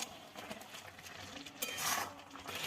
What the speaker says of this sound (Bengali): ঢাকনাটা খুলে এবার দেখে নেব কতটা হলো।